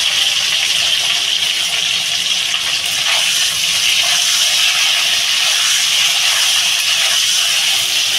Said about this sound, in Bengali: পটলটা বেশ সুন্দর একটু লাল লাল করে ভেজে নেবো